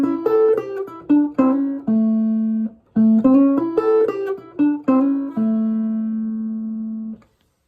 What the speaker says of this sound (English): So the whole thing sounds like this.